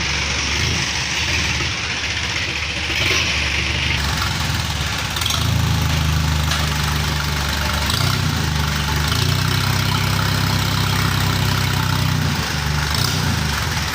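A small engine bought to power a boat idles at a parts yard with a steady low drone. Its note deepens and strengthens partway through, then runs on evenly with a faint knocking vibration, close by and with no talking.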